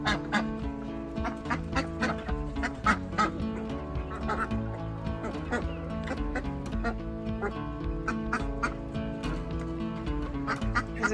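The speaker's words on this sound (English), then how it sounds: "Feeding the chickens and the ducks from the bowl, not the bowl from her scooper." Chickens and ducks being fed from a bowl on a homestead, with a steady chorus of honking and quacking fowl calls close by throughout, sounding continuous and busy.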